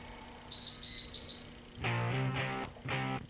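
A workout interval timer beeps four quick times, then falls quiet before a louder patch of background sound with no talking.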